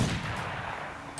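A single teppo matchlock firearm shot in Assassin's Creed Shadows, a loud, close boom that rolls into a short rumbling decay.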